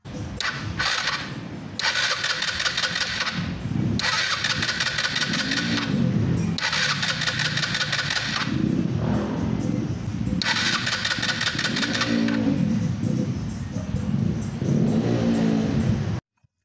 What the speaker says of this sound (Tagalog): naka-on na yung motor